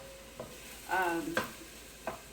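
Onions frying until golden in a pan for a butternut squash and chorizo soup. A steady low sizzle carries on under a few short stirring scrapes, close up, and no one speaks.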